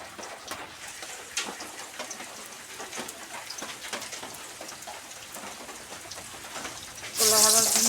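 Rain falls steadily in a dense, hissing patter with scattered sharper drips, and a louder burst of running water joins right at the end.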